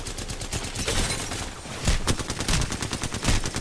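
Several players fire at once in an Apex Legends solos match, producing overlapping bursts of video game gunfire. Sharp shots crackle irregularly at moderate loudness, with heavier impacts toward the end and no speech.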